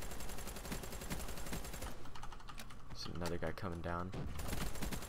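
Rapid automatic gunfire crackles in Call of Duty: Black Ops 3, dense and continuous through the first half, then breaking into shorter bursts while a player speaks over it.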